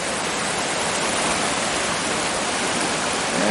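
Buffalo Creek at Borden rushing steadily in winter, a loud, dense and unbroken wash of moving water close by with no voices over it.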